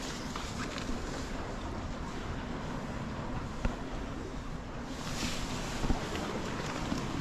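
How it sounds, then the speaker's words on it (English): Steady wind rush across the microphone aboard a sailboat at sea, crossing from Japan toward the Aleutian Islands, a broad continuous roar with faint gusting swells and occasional small knocks. "That's our wind."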